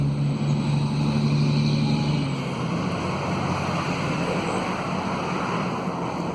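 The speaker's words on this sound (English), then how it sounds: "It's trucks going by on the road." Trucks passing on a road beside a vegetable garden give a steady, broad rumbling roar that swells near the start with a low drone, then settles into continuous wash-like traffic noise with no talking.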